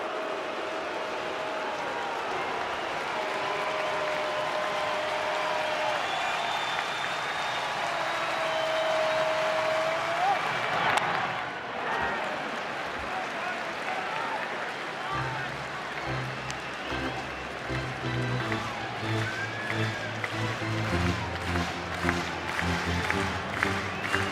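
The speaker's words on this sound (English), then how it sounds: "Crowd not happy while on their feet." A baseball stadium crowd at a Pirates versus Cubs game murmurs and groans in a broad, distant wash, with a commentator talking over it and a low rhythmic thumping in the later half.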